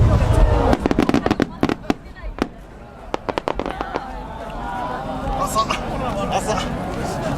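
Fireworks at the Omagari fireworks festival in 2010: a fast volley of sharp, loud bursts and crackles, then a steadier rumble of distant booms while a crowd murmurs underneath.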